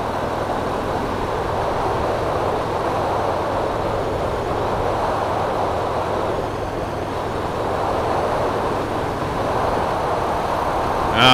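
A 2019 Harley-Davidson FXDR motorcycle pulls through fifth gear on the road, a steady, loud engine drone blended with rushing wind noise that holds constant, with no talk.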